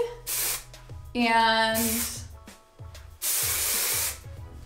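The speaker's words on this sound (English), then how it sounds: "I prep my hair with the texture spray" Paul Mitchell Invisible Wear Undone Texture Spray hisses onto hair in two long aerosol bursts, with a brief voice and handling noises between them and a steady low background hum.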